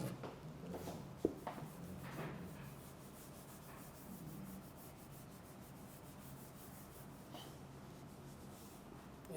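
A pen or pencil writes by hand on paper, a soft close scratching and rubbing in short strokes, quiet and continuous with small taps, and no speech over it.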